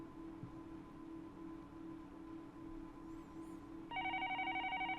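A telephone rings in the visual novel Higurashi When They Cry, a steady electronic double-tone ring cutting in near the end over a soft game background hum, with no talk.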